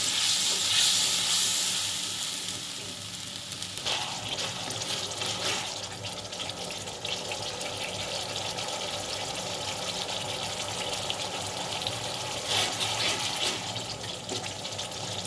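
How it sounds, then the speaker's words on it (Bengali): Spice paste with turmeric, salt and sugar frying in a pan for a raw jackfruit curry, a soft continuous sizzle and hiss with stirring scrapes, moderately close and steady throughout. "এবার মশলাটা আমি ভালো করে কষিয়ে নেব।"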